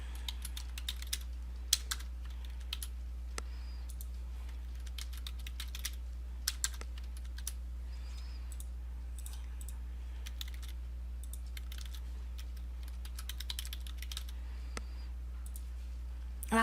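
Typing on a computer keyboard while entering a username and password into a form: soft, quiet key clicks in irregular bursts separated by pauses, over a steady low electrical hum.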